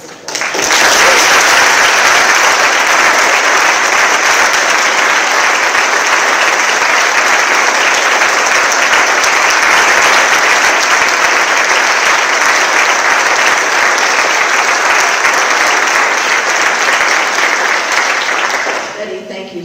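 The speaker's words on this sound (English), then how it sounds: "join in a rousing round of applause" A large university audience at a State of the University event breaks into sustained, loud applause that holds steady for nearly twenty seconds before tapering off slightly at the end.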